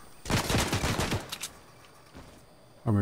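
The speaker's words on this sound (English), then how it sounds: "I see, hear somebody else shooting at me." A quick burst of rapid gunfire in Fortnite, several close shots in a dense volley during the first second, then quieter scattered pops and a sharp new shot at the very end.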